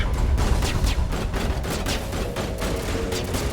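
Sustained gunfire in the video game Mass Effect, a dense, rapid stream of shots and impacts running without pause at steady loudness, with no voices over it.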